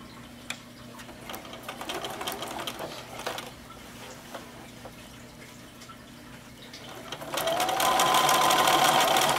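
A sewing machine stitches a potholder with a steady mechanical whir and ticking needle beats, speeding up into a louder continuous run near the end.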